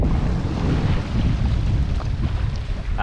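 Strong wind gusts across a beach by the sea, roaring steadily and close into the microphone for several seconds with no talk.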